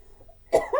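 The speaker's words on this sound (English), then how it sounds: "Cough. I coughed." A single sharp human cough, close and clear, following a short stretch of near silence.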